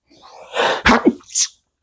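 A single close, loud human sneeze: a quick indrawn breath followed by a sharp burst, then a short trailing exhale.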